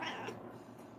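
A house cat gives a single short meow, fairly close and moderately loud, against quiet room background with no talk.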